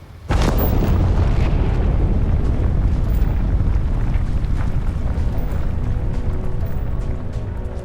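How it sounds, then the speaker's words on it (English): Explosions in the video game Starfield set off a sudden loud boom that rolls into a long, dense rumble with crackling bursts, staying heavy and close for several seconds before easing slightly. "Randomly hear explosions."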